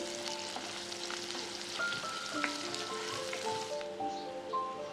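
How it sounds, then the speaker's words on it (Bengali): Chopped onion and garlic fry gently in oil in a pan for a curry, giving a steady, soft sizzle that runs throughout, with faint melodic tones sounding in the background. "হালকা করে ভেজে নিব।"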